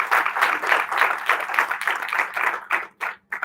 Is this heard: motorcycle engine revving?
no